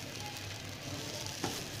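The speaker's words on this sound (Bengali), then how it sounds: "চাল আর ডাল আপনারা একটু ভালো করে ভেজে নেবেন" Rice and lentils toast in a pan for hilsa khichuri, giving an even, fairly quiet sizzle throughout with one soft stirring knock near the end.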